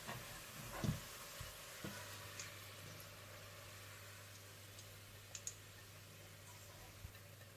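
Onions sizzle steadily in hot oil while frying to golden brown for Hyderabadi biryani, a soft continuous hiss with a few faint ticks and stirring knocks.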